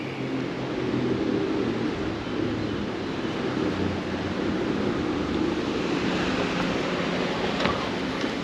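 A river flows through the old ghost town of Thurmond, West Virginia, a steady broadband rushing wash that stays constant throughout with no voices.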